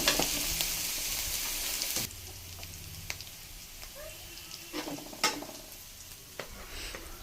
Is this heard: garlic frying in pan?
yes